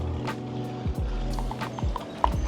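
Horses clip-clop nearby in a steady, uneven run of hoof beats while a cyclist overtakes them, with faint road noise throughout.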